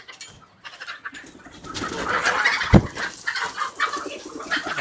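Free-range country chickens clucking and calling near a house, several birds at close range with irregular bursts, one sharp loud call in the middle, no talking.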